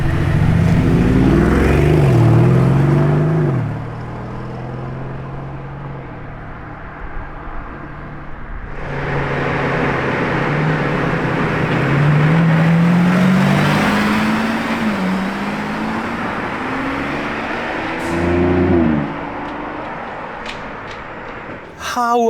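A Lamborghini Revuelto engine revs through several rising and falling sweeps, loud and close, at a factory. It fades to a lower idle, then surges again in long climbing revs, with a brief voice in the background.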